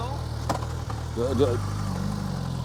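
A Suzuki GSX-S 1000 GT motorcycle idles with a steady low engine rumble while it is moved, a brief click and a short whine rising over it as someone talks nearby.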